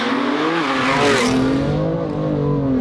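A tuned 650 BHP BMW M2 Competition with a hybrid turbo roars under hard acceleration, its engine note climbing steadily, loud and close from inside the car.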